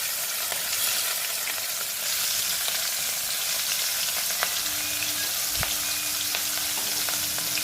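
Chillies, curry leaves and asafoetida sizzle in hot oil for sabudana potato khichdi, a continuous close crackle with a few faint clinks and stirring sounds, and no voices.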